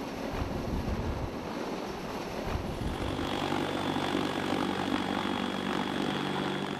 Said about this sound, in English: watching a giant helicopter hover overhead